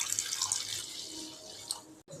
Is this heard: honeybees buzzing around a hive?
no